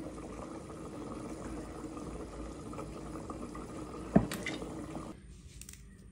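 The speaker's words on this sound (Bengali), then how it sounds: "দিয়ে দিব তেল" Cooking oil poured into a pan gives a steady liquid trickle with a soft bubbling hiss, close and fairly quiet, followed by a single sharp clink near the end before the sound drops away.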